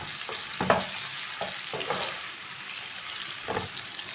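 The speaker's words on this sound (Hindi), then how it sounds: "दो टमाटर, 3 सब्ज़ मिर्च, एक मिनट तक भून लेंगे।" Two tomatoes and three green chillies frying in a pan, a steady close sizzle with occasional scrapes of stirring over it, without talking.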